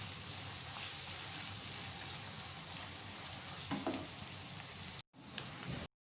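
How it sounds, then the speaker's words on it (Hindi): Onions frying crisp in a pan for a potato and green chilli pulao, a steady close sizzle and crackle that runs without talk and cuts out briefly near the end. "प्याज हमारे अच्छी तरह से फ्राई हो गए हैं"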